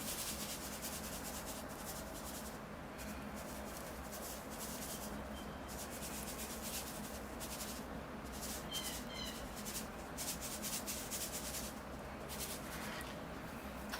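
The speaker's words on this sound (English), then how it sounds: "I'll scoop in the sections I can reach easily." Playground sand mixed with white sand scooped into a bonsai pot for a desert rose planting, giving a steady soft grainy rubbing and pouring hiss throughout, close and fairly quiet.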